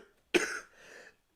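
A single sharp cough bursts out, followed by a softer breathy throat sound trailing off, close to the microphone with no talk around it.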